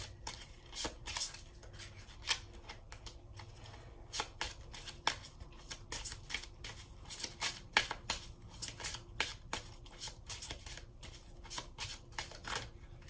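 Botanical Inspirations Oracle cards are shuffled by hand in quick, crisp riffles and slides that come in irregular bursts, close and clear with no talking.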